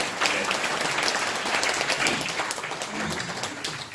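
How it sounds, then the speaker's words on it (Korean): Audience at a police detective chief's retirement ceremony breaks into warm, dense applause, a sustained crowd of clapping hands that fades slightly toward the end. "우리 서장님한테 한 박수 한번 부탁드립니다"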